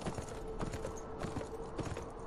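Horse hooves clip-clop steadily in the video game Beyond Two Souls, a rhythmic run of hoofbeats at moderate loudness with no talk over them.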